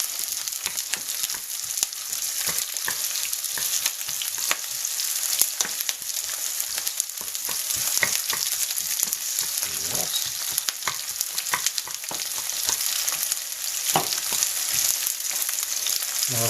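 Onions fry in a pan for a special fried rice, a steady dense sizzle with crackles and occasional stirring scrapes, close and continuous with no talk.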